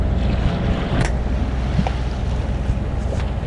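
A sailboat motors at sea off Albania, with a steady low engine rumble, wind buffeting the microphone and the wash of water along the hull, continuous and close.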